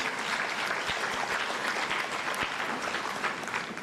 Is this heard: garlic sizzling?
no